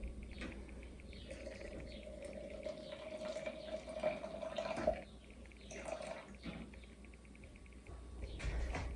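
Water pours from a Berkey filter's spigot into a jar, a soft, fairly faint trickling and filling sound that rises and falls over several seconds, with no talking.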